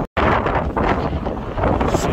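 Strong hurricane wind blasting into a microphone outdoors in a city, a loud, continuous low roar and buffeting rumble with rough gusty surges, nearly filling the clip after a brief dropout.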